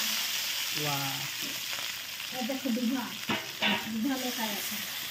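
Fish sizzling in hot mustard oil in a kadhai, a steady close frying hiss with brief stirring clatters and a short exclamation from a voice.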